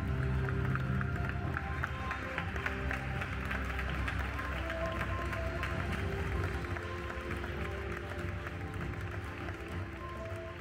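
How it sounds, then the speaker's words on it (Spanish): A steady, dense patter of audience applause at an award ceremony for artisans fills the room evenly, fading slightly toward the end. "Un aplauso, por favor."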